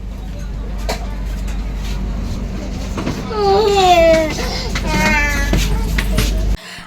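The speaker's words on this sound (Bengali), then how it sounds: "আপাতত আমাদের ট্রেন ছেড়ে দিয়েছে" A low, constant rumble fills the cabin of a train pulling out on its way to Delhi, with a child's whimpering cry and voices rising over it midway.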